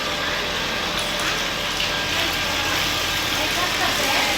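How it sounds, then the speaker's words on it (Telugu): A water pump motor runs steadily with water gushing from a tap, a continuous broadband hum and rush filling the whole stretch at an even level, with voices faintly in the background. "మోటార్ వేసి నల్ల ఇప్పుడు వేసిండు."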